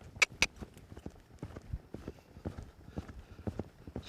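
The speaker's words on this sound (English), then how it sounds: "Now let's lope her around a little bit." A two-year-old filly loping in an arena, with rhythmic hoofbeats thudding in a steady three-beat pattern at moderate distance, fairly quiet, with a couple of sharper clicks near the start.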